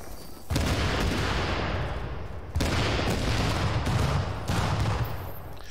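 Secondary explosions in the video game The Division, a loud dense burst of booming blasts and crackling gunfire-like bangs with two sharp onsets, sustained throughout.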